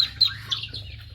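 Grown ducks and native itik ducks give short, sharp calls on a farm, a few quick squawks heard up close over a low steady hum.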